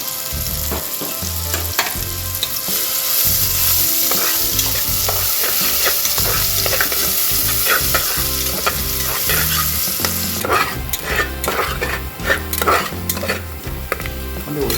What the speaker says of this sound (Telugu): ఆయిల్ వేడెక్కింది ఉల్లిపాయలు చూడండి కొన్ని వేసుకున్నాను